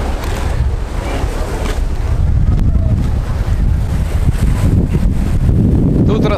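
Steady wind buffets the microphone on a seaside hotel terrace in Hurghada, Egypt, with a constant low roar, and surf or water noise sits faintly underneath.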